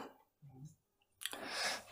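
A gas stove knob clicks in a home kitchen as the flame under a pan of oil is turned down, followed by a loud, steady broadband rush lasting about a second, with no talking.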